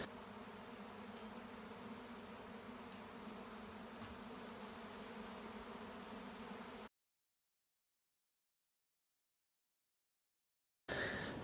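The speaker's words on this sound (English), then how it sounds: "Had a bee swarm land in the backyard and set up" A bee swarm settled in a backyard makes a steady, dense buzzing that holds unbroken for several seconds, then cuts to silence before a brief return of sound.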